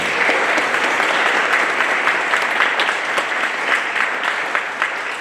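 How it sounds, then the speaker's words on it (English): Steady, dense applause from a large audience at a graduation ceremony fills the hall, continuous and loud throughout with no pauses. "Let's give Steve another round of applause."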